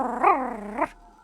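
A person imitates a dog's growl with the voice, one sustained rough snarl rising and falling twice before cutting off, loud and close with no other talk.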